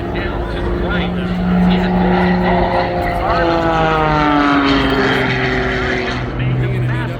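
An MXS aerobatic propeller plane of about 1,200 pounds and nearly 400 horsepower performs freestyle maneuvers at Oshkosh, its engine snarling loudly with rising and falling pitch sweeps as it climbs and turns, while an announcer talks over it.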